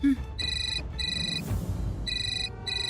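A telephone rings in repeated bursts of a bright electronic trill with short gaps between them, sounding loud and close, with low background rumble beneath. No one speaks.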